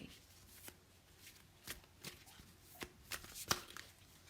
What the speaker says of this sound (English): to draw a card from our affirmation deck